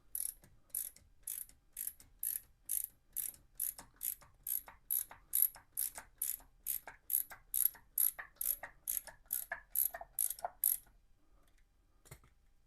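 A 12 mm ratchet clicks rapidly in steady bursts while loosening the oil filter on a 1987 Honda GL1200 Goldwing, about twenty quick pawl strokes in a regular rhythm, close and clear, then stopping near the end.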